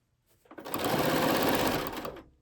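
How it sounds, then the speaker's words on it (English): A sewing machine stitches down quilt binding in one short, steady burst of rapid, close mechanical whirring that ramps up, holds, and winds down. "All right, we're going to stitch it down. And this is the rejoin spot. So I'm just going to stitch a few inches here."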